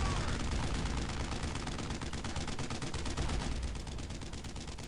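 Rapid gunfire from the World War II shooter game Brothers in Arms: Road to Hill 30. Dense, fast bursts of shots repeat over a loud battle background, easing slightly toward the end.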